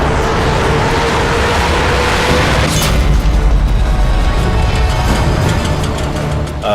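A vehicle hit by a sniper shot explodes in the video game Sniper Elite 3, producing a loud, deep, rumbling boom that swells midway and then trails off.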